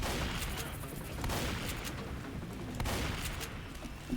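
Distant, muffled bursts of gunfire in a video game battle, a steady rumbling fusillade with sharper cracks around the middle and end, quiet under the game's background noise.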